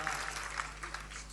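An audience at a Gujarati comedy and music programme claps in a dense, moderately loud patter of many hands, with a low steady hum underneath, lasting just over a second.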